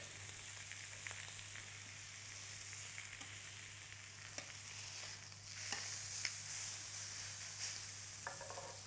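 Beef steak sears on a hot tray with a continuous hissing sizzle and occasional pops and stirring clicks, plus a low steady hum beneath, with no speech.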